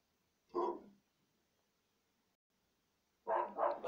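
A dog barks outdoors, heard indoors through an open window: one bark, a pause, then a quick double bark, moderately loud against a quiet room.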